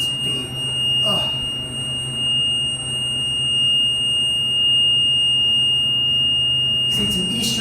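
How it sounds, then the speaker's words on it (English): A loud, sustained high-pitched beep from a slowly closing Eastern hydraulic elevator door at a travel plaza in Breezewood, PA drones on continuously, with faint rustling and a couple of brief noises underneath. "Closes slowly, and that's a very loud, obnoxious beep"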